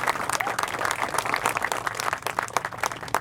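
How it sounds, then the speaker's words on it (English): Warm round of applause at an outdoor plaza rededication ceremony, greeting an energy company's community relations director. Many hands clap in a steady, dense burst that is moderately loud and stays even throughout, with no voices over it. "Please give her a nice warm round of applause"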